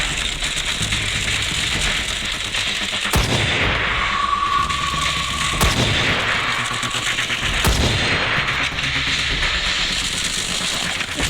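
Gunfire in a shooting video game: dense, loud rattling bursts of shots and a few sharper blasts over constant hissing game noise, without audible talk.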